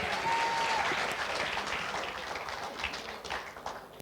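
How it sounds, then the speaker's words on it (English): Audience applause for a keynote speaker at a community career talk, steady broadband clapping that starts full and gradually thins and tapers over a few seconds, with no voices over it. "Please, a round of applause for him again."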